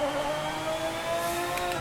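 A Lamborghini Murcielago engine in the Project Motor Racing driving game hums as it accelerates, a steady, loud tonal drone that rises in pitch, with no talk over it.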